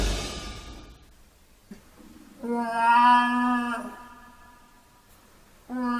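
A cat yowl used as a sound effect in an audiobook of the black cat tale: a long, drawn-out, wailing cry swells after a quiet start and fades, then a second yowl begins at the end.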